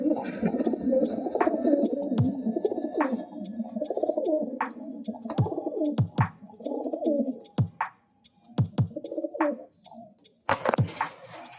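Semi-adult pigeons coo in rounded, throaty phrases, close and fairly loud, rising and falling in short bursts, broken by a few sharp clicks and wing-flutter noises toward the end.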